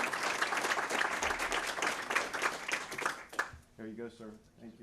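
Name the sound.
applause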